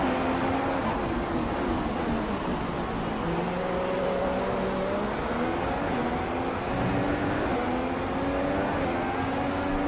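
A Formula 1 race car in the F1 2016 video game pulls out of the pits at Bahrain, its engine a steady, continuous drone with gently shifting pitch that stays fairly loud throughout.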